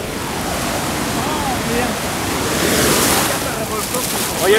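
Pacific Ocean waves at San Juan de Alima beach in Michoacán, a continuous rushing surf with wind buffeting the microphone, swelling slightly midway, with faint voices underneath.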